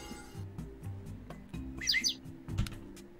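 A bird chirps in the Roblox game Lumber Tycoon 2, with a short, bright burst of tweets that is fairly faint over quiet background noise.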